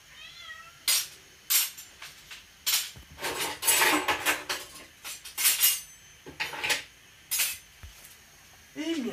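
A metal utensil stirs food in a pot, clinking and scraping against the sides in quick, irregular strokes, close and fairly loud, with short pauses between bursts.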